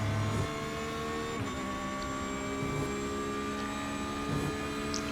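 A Porsche 911 GT3 R in iRacing, its engine droning with steady harmonic whine and pitch shifts as it accelerates, continuous and fairly loud throughout.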